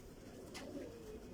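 A teddy pigeon gives a faint, low coo over a steady background hiss, a single short murmur heard at a distance.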